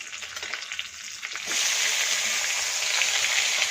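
Chopped onion dropped into hot oil with curry leaves for street-style paneer masala fried rice, the sizzle jumping to a loud, steady broadband hiss about halfway through and holding.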